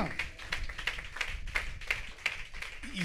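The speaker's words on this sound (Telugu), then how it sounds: "చప్పట్లు కొడదాం గట్టిగా, గట్టిగా" Faint, quick rhythmic clapping, a steady string of claps at a distance with no voices over it.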